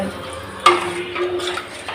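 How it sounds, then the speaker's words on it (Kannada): A ladle stirs instant soup in water in a pot, giving a sharp metallic clink followed by soft scraping and swishing strokes, close and fairly loud, with no talking. "ಈ ರೀತಿ ತಿರುಗಿಸ್ತಾ ಇರಬೇಕು ಅದರಲ್ಲಿರುವ ಗಟ್ಟಿ ಅದನ್ನೆಲ್ಲ ಅದು ಬಿಡ್ತದೆ"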